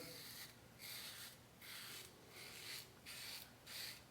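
A safety razor set to an aggressive setting scrapes through a couple of days of beard stubble on the sideburn, with close, rhythmic strokes, about five or six rasping passes with short pauses between them.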